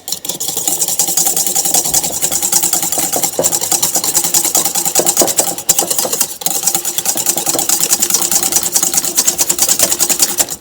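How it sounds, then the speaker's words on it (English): An electric mixer whisks butter and other ingredients for overnight cinnamon buns in a bowl, a loud, steady buzzing motor drone with a brief dip partway through, close and continuous. "you're going to whisk it together so you can look in the bowl"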